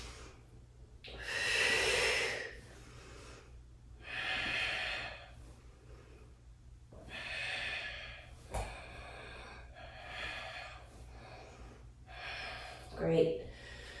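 Slow, deep breaths during a heart-opening power vinyasa yoga flow, five long airy inhales and exhales in a steady rhythm, close and soft, with a faint nasal snort near the end.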